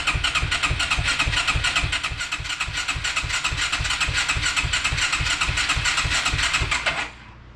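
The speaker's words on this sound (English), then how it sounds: "Let's fire this thing up." A 1991 Suzuki Quadrunner ATV with a rebuilt Mikuni carburetor runs loud and close, its rapid low thumping firing pulses steady and even for about seven seconds before abruptly cutting out.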